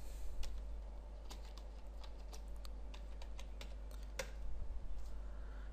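A password being typed on a computer keyboard, with quick irregular key clicks close by and an even low hum underneath, without speech.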